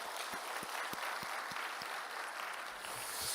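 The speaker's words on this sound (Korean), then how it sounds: "우리 수고하시는 분들을 위해서 박수로 한번 격려하겠습니다" A congregation at a church dawn prayer service claps steadily in appreciation of the volunteer serving team, a dense, even patter of many hands filling the room, with a few rhythmic thumps underneath.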